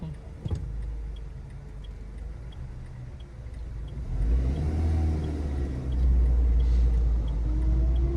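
A car pulls away at the start of a driving exam route in a city, with a low engine rumble that rises as it accelerates, a faint ticking indicator and a click early on.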